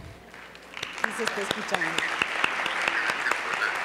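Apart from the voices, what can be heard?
audience applause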